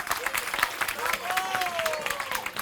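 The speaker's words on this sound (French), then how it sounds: "On l'applaudit." A storytelling show audience claps, a brief burst of dense applause under a voice speaking and a sung or drawn-out vocal line.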